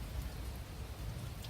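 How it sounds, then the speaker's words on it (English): Hail falls across Long Island, New York as a dense, steady patter of ice striking surfaces, with a constant low rumble beneath and no voices. "It was hailing in certain parts of Long Island."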